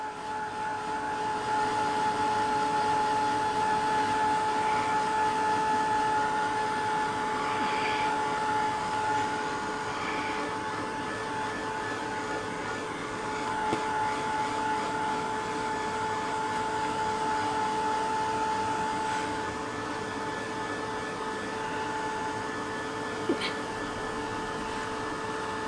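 A heat tool blows steadily on an egg painted with alcohol inks, a constant whirring, humming blast that stays close and even throughout, with no speech.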